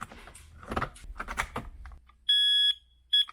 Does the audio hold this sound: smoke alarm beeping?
yes